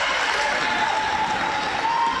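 Home crowd at a women's Premier League basketball grand final cheering and applauding as a steady, loud, sustained roar with a whistle-like tone running through it.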